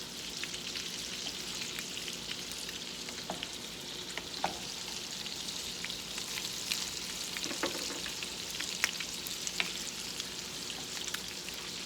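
Pasta sauce bubbling on low heat in a pan, a faint continuous hiss with scattered soft pops and ticks, quiet and steady with no voices.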